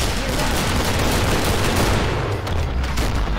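Dense, loud gunfire from the video game Killing Floor, a relentless fusillade of rapid shots and blasts filling the whole stretch without pause.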